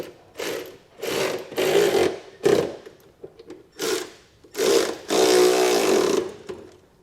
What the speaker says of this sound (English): you can come back with a 1/2-inch socket and snug up all of the bolts holding on our brackets